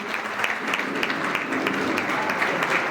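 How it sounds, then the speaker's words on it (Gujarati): A hall audience applauds at a retirement honoring ceremony, dense, steady clapping from many hands held at an even level for the whole stretch. "આપણે જોરદાર તાળીઓથી વધાવીએ"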